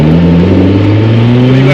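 A turbocharged 1200 HP BMW E30 with a swapped S52 engine revs loudly and close, its pitch climbing steadily over a short burst.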